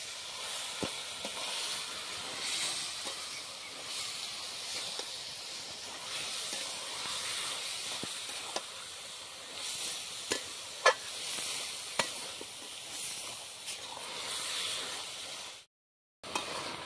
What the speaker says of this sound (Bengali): দিয়ে দিচ্ছি ধনের গুঁড়ো, চিনি, ভালোভাবে নাড়তে থাকবো